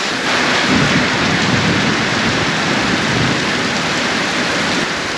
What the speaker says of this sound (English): Storm must be passing through because the wind is starting to change directions.